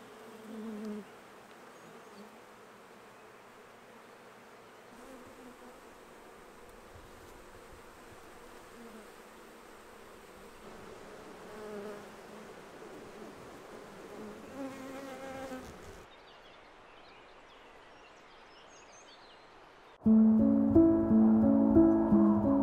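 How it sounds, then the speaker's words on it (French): Honey bees buzz steadily around hives near a forest and vegetable garden, a dense continuous hum of many insects heard alone for most of the stretch, ending with a sudden louder, closer burst. "Les abeilles contribueront également à polliniser les fleurs de mon potager et de la forêt."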